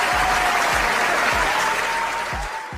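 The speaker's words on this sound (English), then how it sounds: "Let's give her a round of applause." A round of applause from an audience, steady dense clapping that holds for a few seconds and fades at the end.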